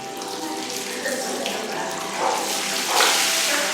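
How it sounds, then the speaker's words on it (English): Hot water pours steadily and continuously into an overflowing bath at a Tbilisi bathhouse, a constant close rushing splash that swells slightly toward the end. "this water is constantly flowing. It's gonna overflow."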